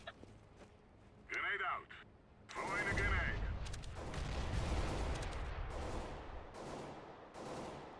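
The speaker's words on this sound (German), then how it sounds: "Ein Schuss kam durch die Mitte." Several bursts of rapid gunfire from Counter-Strike: Global Offensive, mixed with clatter and game effects, fairly loud and continuous across the clip.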